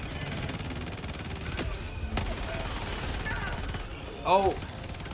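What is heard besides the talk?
sentry gun firing in video game Helldivers 2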